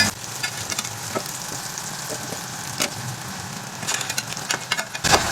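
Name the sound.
anchovies (dilis) frying in oil, second fry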